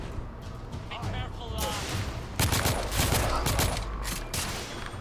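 Rapid gunfire bursts and heavy shots in the third-person shooter The Order: 1886, loud and dense with overlapping volleys and crashes, partly under game chatter.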